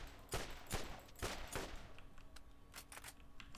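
A strange purple gun firing in Borderlands, a burst of several sharp shots in quick succession followed by softer, sparser pops trailing off, fairly quiet overall.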